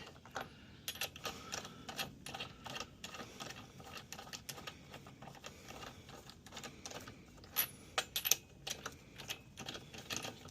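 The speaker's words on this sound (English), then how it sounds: "Just hand tightening for right now." Lug nuts spun on by hand onto a Can-Am Spyder F3 wheel, a quiet run of rapid metallic clicks and ratcheting ticks, close up and irregular, with a brief brighter burst of clicks toward the end.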